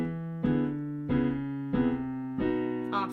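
Piano playing a 4-1 walk-down in B in a gospel style: four sustained chords struck one after another in an even stepping rhythm, each ringing clearly, with a brief higher flourish at the end.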